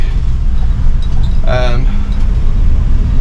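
A 1960 Chevrolet C-10 project truck engine idles too fast, a loud steady rumble close by, with a brief higher whine rising over it midway.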